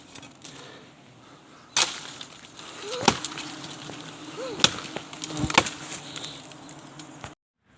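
Honey bees buzz steadily around a wooden hive box that has been carried outdoors, a continuous close insect drone broken by sharp knocks and thuds as the box is handled.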